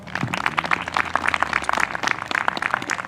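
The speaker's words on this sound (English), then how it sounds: "So please give them a round of applause" Applause from a crowd at a 4-H achievement celebration honoring the 4-H Members Council, a steady patter of many hands clapping together that holds evenly throughout at moderate volume.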